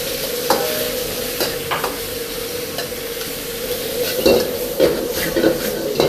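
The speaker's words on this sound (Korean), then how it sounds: "삼겹살을 굽다가 삼겹살이 한 반쯤 익었을 때 전지를" Pork belly and shoulder stir-fry in a wok on a Chinese-style range, a steady sizzle broken by repeated sharp metal scrapes and clanks of the utensil against the pan, with a constant burner roar underneath.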